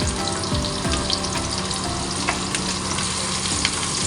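Sardines fry in a little oil in a home kitchen pan, giving a close, continuous crackling sizzle with small pops and scraping stirs scattered throughout, and no talking.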